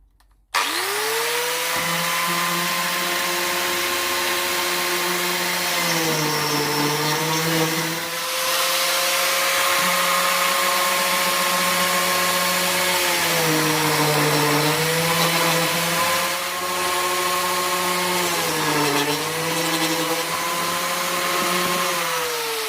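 A biscuit joiner whines steadily close by as it plunges to cut slots in rustic crate boards, its motor pitch dipping briefly several times under load with each cut before recovering to a constant drone.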